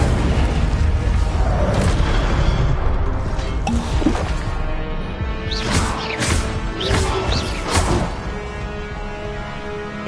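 Incendio fire spells cast in the Hogwarts Legacy video game, a run of loud whooshing bursts and booming crackles layered over a constant roaring rumble, with no one talking.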